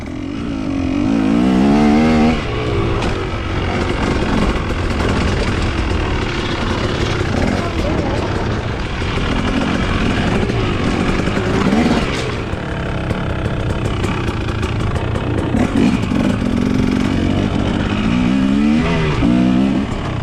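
Pit bikes roar around a dirt track on laps, their engines revving and droning loudly and continuously close by, with pitch rising and falling as they work through the course.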